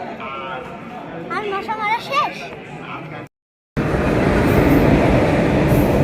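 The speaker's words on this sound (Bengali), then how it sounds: "চলে এসেছে আমাদের ট্রেন" Sealdah–Lalgola passenger train pulling into a station, heard as a loud, steady broadband rail roar after a brief cut, with a crowded platform and people talking before it arrives.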